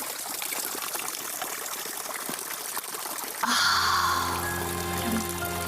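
A steady rushing hiss gives way to a louder, nearby stream of alpine spring water pouring and splashing without pause in the Alps.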